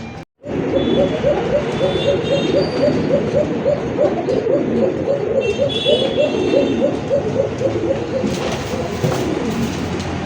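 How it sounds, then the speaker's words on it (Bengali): A pair of breeding pigeons coo in a steady rhythmic series of soft, low, repeated notes close by, continuing for several seconds with faint background noise. "আজকে এক জোড়া কবুতর পাইছি, বংশবৃদ্ধি কবুতর"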